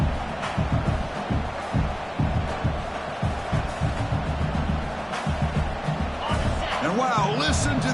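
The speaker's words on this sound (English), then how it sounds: "listen to this crowd noise. This stadium is vibrating." A football stadium crowd roars in a constant, heavy rumble, with voices talking over the dense wash of noise.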